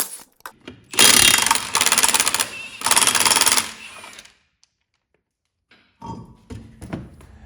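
Steel lug nuts come off a Chevrolet HHR wheel under a pneumatic impact wrench: three loud, close rattling bursts, then a pause and lighter clicks and clunks of handling parts.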